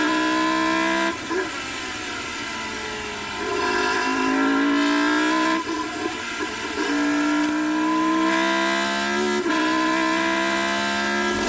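Onboard ride in a 2002 FIA Formula 3000 car led by Giorgio Pantano in Germany: a loud, steady engine wail that sweeps up and down through gear changes, with a few sharp shifts.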